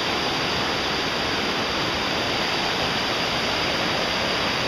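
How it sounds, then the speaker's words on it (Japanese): A mountain river in the Matsukawa valley flows past, giving a constant, full rushing hiss of water that stays close and even from start to finish, with nothing else breaking through. "山あいに流れる川です。"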